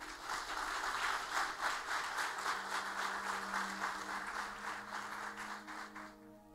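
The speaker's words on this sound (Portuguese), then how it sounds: "Você pode aplaudir ao Senhor porque ele é lindo" A church congregation applauds steadily, the clapping full and slightly rhythmic throughout, with a sustained low instrumental note entering partway and lingering as the applause thins near the end.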